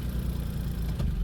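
A Smart Fortwo 451 MHD engine running just after starting, a close, steady low idle rumble with a slight bump near the end.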